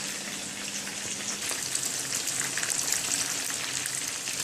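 Chicken pieces fry in a pan for teriyaki chicken, a steady dense sizzle and crackle close up with no talk, even and continuous throughout.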